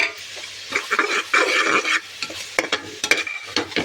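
Ginger garlic paste sizzles in hot oil in a pan as it is stirred, with bursts of crackling fry and sharp spoon-against-pan scrapes, close and loud, in short uneven pulses and with no voices.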